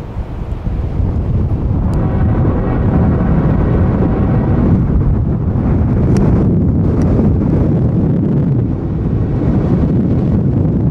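Strong gusting wind buffets the microphone trackside as freight locomotives pass, a loud continuous roar filling the whole stretch.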